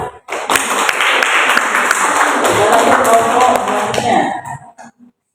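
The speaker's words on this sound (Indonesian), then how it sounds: "Tepuk tangan dulu." Students clap for a group after a classroom presentation, a dense close burst of applause with a voice talking through it, fading out over the final second.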